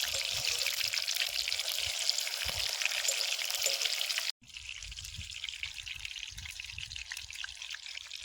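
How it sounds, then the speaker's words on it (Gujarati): Eggplant pieces frying in hot oil for village-style Surati undhiyu, a dense steady crackling sizzle that drops briefly midway and then resumes slightly quieter. "રીંગણા તળવાના બાકી રહી ગયા હતા, તો હવે રીંગણા તળી લેશું"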